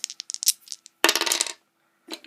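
Dice clatter in a Texas Shake 'Em dice poker game: a string of quick light clicks, then a louder burst of rattling as the dice tumble, and a brief final clack, close and alone.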